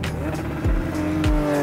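Car launching down the runway at Sywell, reaching speeds over 150, with a loud engine roar and rising gear changes as it accelerates away, heard from the sidelines without talk.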